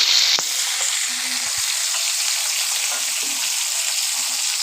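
Vegetables for a vegetarian curry fry in a pan with a constant close sizzle, broken by a few soft knocks and scrapes of stirring.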